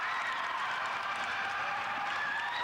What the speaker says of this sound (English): That brings the crowd to the feet.